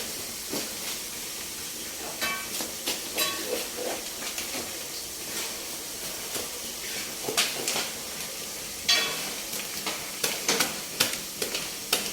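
Chicken fries in a pan with a steady hiss and sizzle, broken by scraping stirs and bursts of spattering, heard up close with no one talking.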